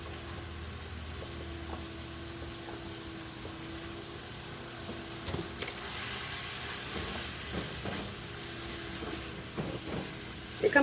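Pork and onions frying in a pan with egg for spicy shrimp and pork fried rice, a steady soft sizzle with occasional scrapes and stirring clatters, growing slightly louder toward the end.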